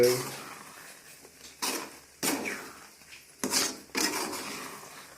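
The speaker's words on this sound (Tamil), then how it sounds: "சேமியாவை கிண்டுவது எப்படி" Vermicelli (semiya) stirred in a cooking pan, a few separate scraping, clattering strokes of a utensil against the pan, close and moderately loud, with quiet pauses between them and no talking.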